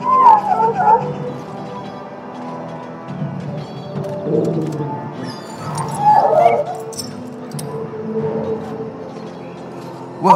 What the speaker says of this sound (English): Now I can treat the dog properly, poor fella.